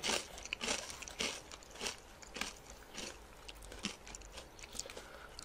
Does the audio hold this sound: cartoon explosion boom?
no